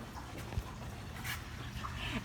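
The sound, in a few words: dog whimpering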